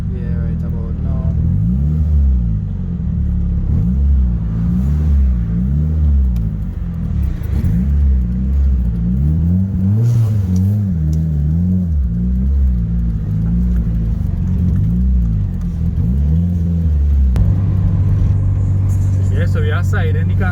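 A manual car is driven on the road, its engine droning and rising and falling in repeated rev cycles through gear changes, close and fairly loud, with someone talking over it at times.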